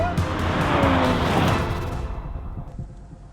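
An Audi RS3 and a Tesla Model 3 drag race on a track, with a loud, close engine roar and tire noise that fades away as the cars pull off into the distance.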